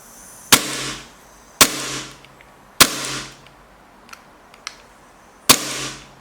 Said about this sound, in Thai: ให้ดูให้ดูฟิลลิ่งในการยิงนะครับ